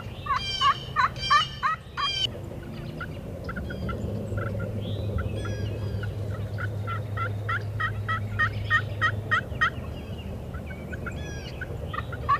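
Wild turkeys gobbling in the woods beside an open field, repeated rattling gobbles from several toms overlapping in bursts, fairly close and clear over a low steady background hum.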